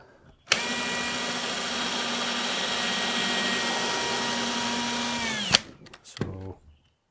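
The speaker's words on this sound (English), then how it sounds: "angled drill attachment" A power drill fitted with an Erbauer angled keyless chuck attachment spins up sharply and runs at a steady high whine for about five seconds, then winds down, followed by a few short clunks.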